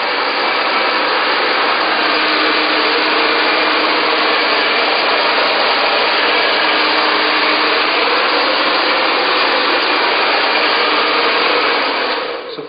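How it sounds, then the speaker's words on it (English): Hair dryer blowing steadily on hair in a spa styling session, a loud constant close airflow roar running unbroken for the whole stretch and cutting off at the end. "make sure that the hair is not too wet before you start blow drying"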